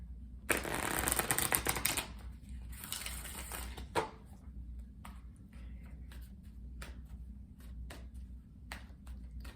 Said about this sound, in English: I'm going to pull you a Spirit Animal Oracle card to end the reading.